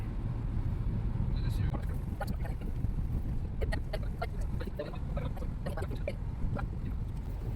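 A motorbike rides ahead on a narrow mountain road, giving a steady, low engine rumble mixed with wind noise throughout while a voice speaks over it.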